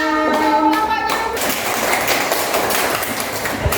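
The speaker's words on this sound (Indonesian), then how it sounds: "Oke, beri tepuk tangan." Students in a school classroom clap during a lesson on waste: after a brief voiced sound at the start, a burst of many hands clapping fills the rest, close and fairly loud.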